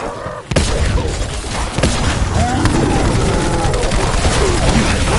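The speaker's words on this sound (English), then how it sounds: "Death follows the sound of cannons." Cannon fire booms through a busy video game battle, with a sharp blast near the start, another heavy thump a little later, and continuous clattering gunfire and explosions underneath a steady loud din.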